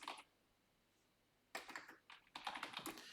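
Computer keyboard typing in short clustered bursts of quick keystrokes, close and clear, with a brief burst at the start, a pause of silence, then steadier typing running to the end.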